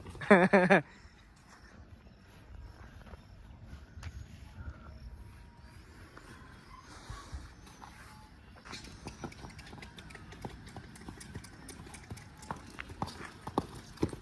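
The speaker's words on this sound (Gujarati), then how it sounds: "હાર્દિકભાઈ ઘોડાને લેવા લઈ લીધો છે મંડો ટપા મારવા ટપા મારે ભાઈ" Hooves clip-clop at a steady trot, fairly faint and continuous, after a short louder burst at the start.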